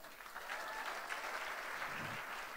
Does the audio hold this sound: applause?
yes